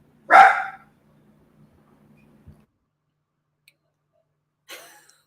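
A dog gives a single sharp, close bark, then falls quiet through a stretch of near silence with faint ticks, before a second, softer bark at the end.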